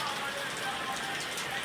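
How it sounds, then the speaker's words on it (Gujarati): Gentle rain falls steadily, giving an even, continuous patter and hiss with no distinct drops standing out. "ભગવાન બહુ રાજી છે, એટલે શાંતિથી વરસાદ વસાવે છે"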